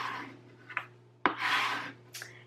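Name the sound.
burnishing vinyl with a Cricut scraper tool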